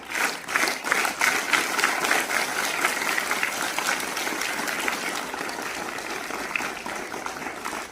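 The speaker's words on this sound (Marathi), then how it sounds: "या लाईनच्या मुलांनी जोरात टाळ्या वाजवल्या बघा." A large group of children claps hard and fast, a dense, loud burst of applause that holds steady for several seconds.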